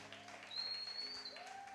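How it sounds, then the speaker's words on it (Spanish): Faint clapping from a congregation at a Sunday church service, heard at a distance, with a thin sustained whistle-like tone ringing over it. "Denle un aplauso al Señor"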